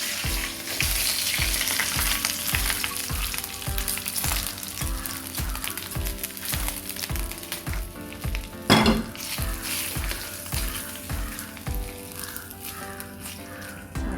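Hot tempering of curry leaves and asafoetida poured into chow chow moru kootu, a loud close sizzle and crackle with clinking pan sounds and a sharp burst partway through, backed by steady rhythmic music.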